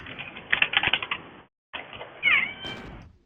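A cat in the room gives a short meow amid close clattering computer-keyboard typing, a brief silence, then another drawn-out meow.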